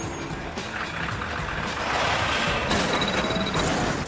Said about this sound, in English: Let's follow that truck and find out where it's dumping the garbage